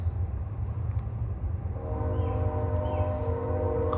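Passing train rumbling close by with a low steady roar, joined partway through by a sustained tonal whine or horn-like hum that continues to the end; no speech.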